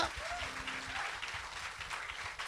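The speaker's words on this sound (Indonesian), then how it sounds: "Bisa berikan tepuk tangan paling meriah buat Tuhan kita." A church congregation gives God a round of applause, a brief burst of dense, steady clapping from a crowd with a voice heard faintly at the outset.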